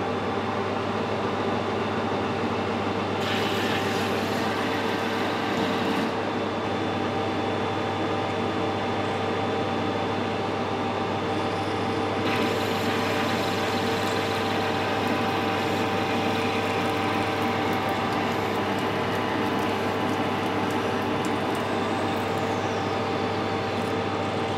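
CNC lathe cutting a chamfer on the end of a metal part, heard close up as a steady, loud machine drone with a constant hum and faint shifting hiss of the cut throughout, no voices.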